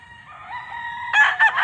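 A rooster crows close by in a rooster yard, one drawn-out call rising and then breaking into a louder harsh final phrase, alone against quiet background.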